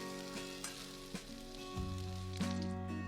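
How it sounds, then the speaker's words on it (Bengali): Two torn dry red chillies hit about a tablespoon of hot oil in a wok while cooking Bengali spinach, giving a soft, steady sizzle broken by a few faint clinks and stirring knocks. "কড়াতে আবার দিয়েছি 1 টেবিল চামচ মতো তেল, আর তাতে 2টো শুকনো লঙ্কা একটু ছিঁড়ে দিয়ে দেব"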